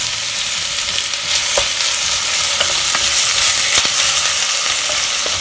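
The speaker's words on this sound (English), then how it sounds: "We're going to roll these onions for 2 to 3 minutes until they are translucent." Onions frying in a pan with a loud, continuous close sizzle, broken by occasional sharp scrapes and taps of a spoon stirring them, no talking.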